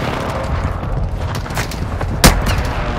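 Gunfire in a video game firefight: a continuous low rumble of distant shots with one sharp, loud crack near the end.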